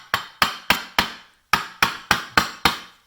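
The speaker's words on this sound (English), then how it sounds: "he's tightening up that lock ring with the flat blade screwdriver method" Nine sharp metallic taps in two quick bursts, a flat blade screwdriver driven against the lock ring of a Sur-Ron electric dirt bike pedal system, each strike ringing out briefly, close and loud.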